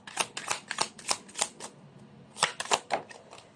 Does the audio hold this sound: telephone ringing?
no